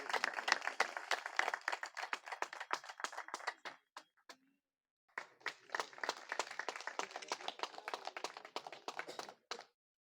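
A crowd at a national convention of an all-India government drivers' confederation in Indri claps crisply to welcome a guest, a burst of sharp individual claps, a brief silent gap, then a second round just as lively.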